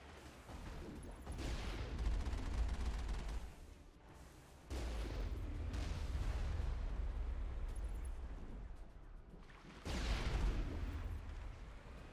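Enemy artillery in Mass Effect on Insanity difficulty, heavy booming blasts rolling in three long loud bursts with rumbling low ends and brief lulls between them.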